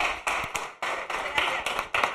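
Applause from a crowd, dense clapping that swells in rhythmic bursts several times over a couple of seconds, fairly close.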